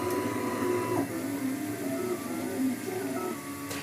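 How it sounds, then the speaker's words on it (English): A 3D printer builds handheld plastic microscopes, its stepper motors whirring in steady, shifting tones with a continuous mechanical hum, close and fairly loud with no voices. "Now that's the sound of a 3D printer, which Richard is using to make handheld plastic microscopes"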